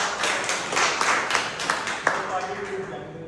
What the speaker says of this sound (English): So can we have a round of applause for Gaurav?